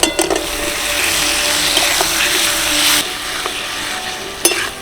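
Boiled potatoes frying in red spice masala for a thick potato curry, with close sizzling and stirring that is broken by brief clatters. The frying cuts off sharply near the end, leaving quieter background sound, and no one speaks.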